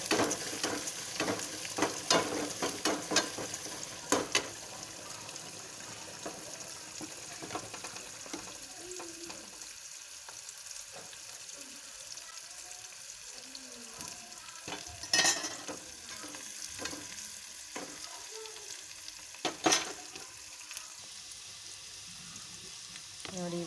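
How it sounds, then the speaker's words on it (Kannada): Onions frying in a pan for a North Karnataka cucumber palya give a continuous sizzle under frequent spoon scrapes and taps against the pan, close and moderately quiet, with a couple of sharper clinks. "ಈರುಳ್ಳಿ, ಹಾಕಿ ಚೆನ್ನಾಗಿ ಫ್ರೈ ಮಾಡ್ಕೋಬೇಕು."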